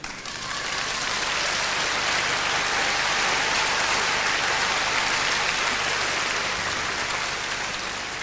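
Loud, sustained audience applause in a large hall at the 1983 Eurovision Song Contest, a dense, even roar of clapping that holds steady throughout with no voices.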